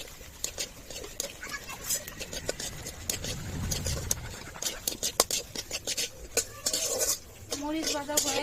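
Dried red chillies fry in a little oil in a pan for a taki fish bharta, with frequent close metallic clinks and scrapes of a spatula over a faint sizzle and a soft voice at times.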